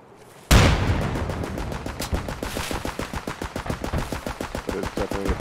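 Rapid automatic turret fire in a multiplayer extraction shooter game, a steady rattling burst of shots that starts abruptly and runs continuously, loud and close, with no talk over it.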